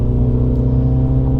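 A MINI John Cooper Works engine holds a steady, loud, close droning rev with a deep, even tone and no voices over it.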